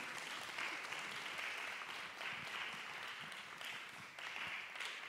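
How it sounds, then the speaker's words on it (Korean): Audience applause at a school third-grade music concert, steady continuous clapping from a hall full of people throughout, moderately quiet and even, with no voices over it. "우리 학생들 나올 때 끊임없이 계속 한번 박수를 쳐주시면 대단히"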